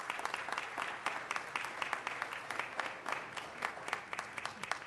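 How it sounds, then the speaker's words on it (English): Moderate applause from a city council meeting audience welcoming visiting students, with the claps coming in a steady, uneven patter heard from a short distance. "Please welcome them and give them a round of applause."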